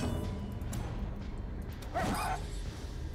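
A dog enemy in the Darkest Dungeon video game lets out a single short bark over a constant dense background of game noise and music.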